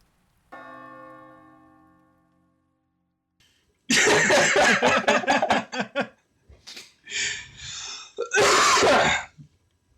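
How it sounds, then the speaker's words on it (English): A man gives a few harsh throat-clearing coughs close to the microphone, in loud bursts separated by short pauses, after a low sustained tonal hum fades out. "I can give you another cough if you want right now."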